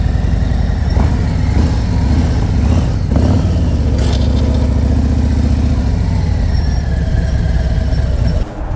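A motorcycle engine idles and revs low and steady during a tight U-turn, with occasional throttle blips, close by and continuous throughout.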